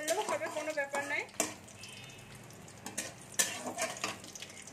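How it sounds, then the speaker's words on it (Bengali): Bay leaf with dried and green chillies sizzles faintly in hot oil as tempering for a raw jackfruit curry. A spoon clinks against the pan now and then, and a person talks at the start and end. "তেল গরম হয়ে গেছে, তেজপাতা দিচ্ছি, শুকনো লঙ্কা দিলাম, কাঁচা লঙ্কা দিলাম আর ফোড়ন দিলাম"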